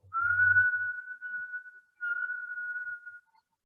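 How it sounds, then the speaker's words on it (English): A breath exhaled through a curled tongue in kundalini pranayama gives a thin, steady whistle, close and fairly soft, in two long sustained strokes with a brief pause between them. "you breathe in through a curled tongue all the way to the top, and then you exhale in a whistle"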